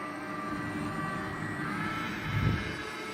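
Radio-controlled Airbus A320 model plane with full landing flaps deployed, flying at half throttle in a tailwind; a steady, moderately loud whirring engine drone with a slight swell near the end.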